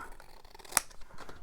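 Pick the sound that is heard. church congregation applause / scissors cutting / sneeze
scissors cutting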